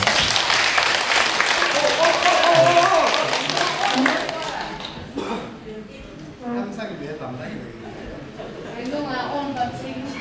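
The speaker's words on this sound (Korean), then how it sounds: "이번 이 기회에 더불어서 큰 박수를 한번 맞아주면 감사합니다." A crowd at a year-end party bursts into loud, dense clapping that fades after a few seconds into scattered claps and murmured chatter, with a voice over a microphone.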